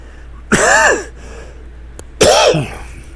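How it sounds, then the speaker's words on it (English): Two loud, close coughs, one after the other with a short pause between, right against the microphone. "Coughing the mic."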